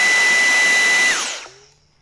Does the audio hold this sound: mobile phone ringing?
no